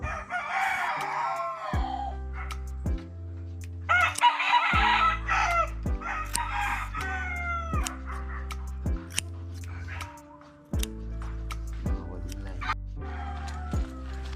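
Chickens cluck and a rooster crows repeatedly at a rural outdoor spot, close and fairly loud, with a dog barking now and then and people talking in between.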